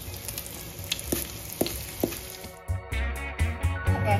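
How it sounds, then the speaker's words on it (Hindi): Whole garam masala, bay leaf and cumin frying in hot oil in a pan, a steady close sizzle with a few sharp spoon taps, then a louder burst of frying and stirring near the end. "इस टाइम पे यहाँ पे ऐड कर देंगे खड़ा गरम मसाला और तेजपत्ता, ये तेजपत्ता और ये रहा खड़ा गरम मसाला, थोड़ा सा करेंगे फ्राई"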